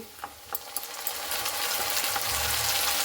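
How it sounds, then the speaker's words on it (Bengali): Spice paste fries in a pan while it is stirred, starting with a few light scrapes and clicks before a steady, rising sizzle fills the rest, close and fairly loud. "মশলাটা দিয়ে একটু ভালো করে এইভাবে নাড়াচাড়া করে নিচ্ছি"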